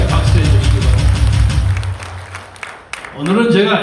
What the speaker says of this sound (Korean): 크게 박수해 주시기 바랍니다